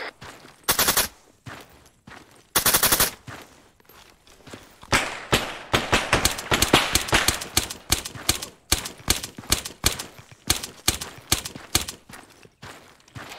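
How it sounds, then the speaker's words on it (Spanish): Bursts of gunfire in the video game Arma 3, with two loud rapid volleys early on followed by a long stretch of repeated sharp shots in irregular rhythm, close and dominant, with no talking. "¿Más disparos?"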